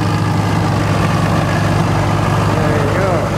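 An antique McCormick WD9 tractor engine runs at a steady idle at an antique power show, a constant loud low throb with no break throughout.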